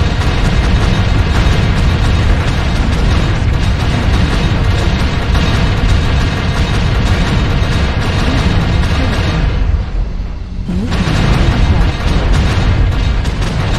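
Artillery strike explosions in a video game, a dense, loud, continuous barrage of booming blasts that briefly dips then resumes at full force.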